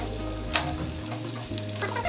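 Vegetables being stirred and fried in a pan for a vegetable dal, a steady close sizzle with a brief scrape near the start and light stirring scrapes throughout, no voices.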